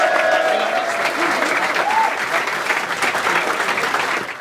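A rap battle crowd claps and cheers for the winner in sustained loud applause that fills the room, with a few whoops and voices mixed in, fading slightly at the end.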